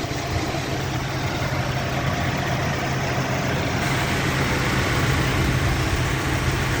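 A 2001 Nissan Frontier engine runs steadily at idle, a loud continuous low rumble with an even mechanical hum throughout and no talking.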